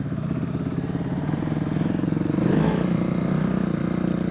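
A Kawasaki KLX250 dirt bike engine runs steadily, with a loud, continuous rumble that swells briefly into a stronger rev near the middle before settling back to a constant drone.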